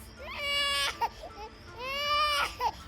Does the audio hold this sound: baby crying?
yes